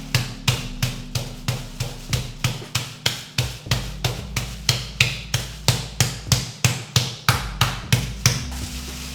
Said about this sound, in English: we need to pound the steaks out